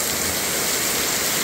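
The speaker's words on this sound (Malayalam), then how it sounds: "അങ്ങനെ മഴ പെയ്തു." Steady rain falls on a farm, a dense, even hiss of drops that holds unbroken and fairly loud for the whole moment with no voices.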